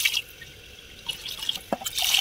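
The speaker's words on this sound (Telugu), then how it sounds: "సో ఫస్ట్ వాటర్ ఇలా వేసుకొని మనం కలుపుకొని ఇలా కలుపుకోవాలి బియ్యాన్ని." Rice is swished and rinsed by hand in a bowl of water, giving soft drips, trickles and small splashes that come in irregular bursts, close by, with no talking.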